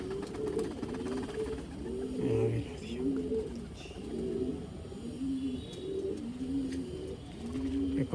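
Pigeons of an old Malwai breed coo repeatedly in a loft, several birds layering low rolling calls in a steady overlapping rhythm, close and fairly loud throughout.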